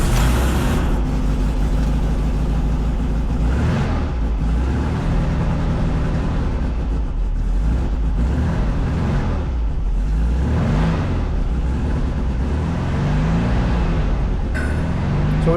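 A car engine running steadily after a rev counter has been fitted, a loud continuous close rumble with slow swells in pitch as it revs up and settles back, heard alone without talk.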